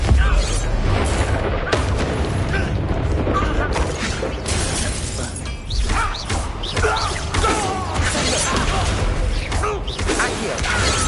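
Confringo fire blast spells explode in a Hogwarts Legacy battle, loud booming blasts and crashing impacts piled densely through dense combat noise and music.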